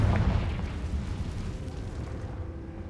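A Confringo blasting spell goes off in the Hogwarts Legacy video game, a loud, deep explosive boom with a rumbling low-end tail that slowly fades over a few seconds.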